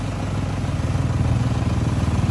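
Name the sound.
van engine running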